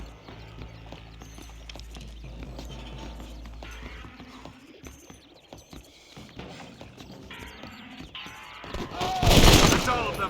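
Gunfire and galloping horse hooves in the video game Red Dead Redemption, rapid clattering shots and mechanical clicks, a louder burst near the end, with game voices talking.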